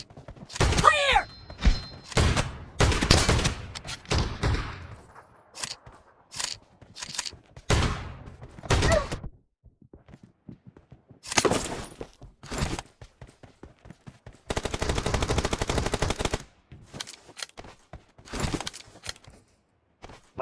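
Shotgun gunfire in a BGMI battle-royale match: sharp bursts and single blasts spaced irregularly, one longer sustained burst in the middle, with quiet gaps between the shots.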